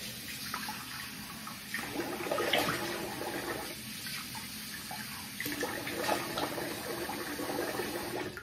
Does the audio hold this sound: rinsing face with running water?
yes